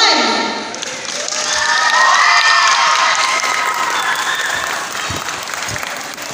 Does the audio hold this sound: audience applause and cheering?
yes